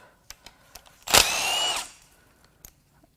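Power tool burst spinning out an aluminum oil pan bolt on a BMW 335i with the twin-turbo N54 engine, a loud whirring run of under a second after faint clicks, alone in a garage.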